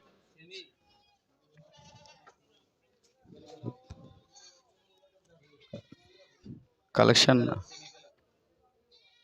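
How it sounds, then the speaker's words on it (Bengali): Goats bleat at the Sagarika cattle market in Chattogram, with several short calls scattered between bursts of nearby talk and one loud, close bleat near the end. "এদিকে ছাগল রয়েছে"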